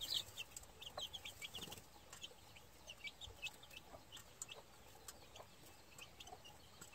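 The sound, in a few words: gamefowl chicks and hens clucking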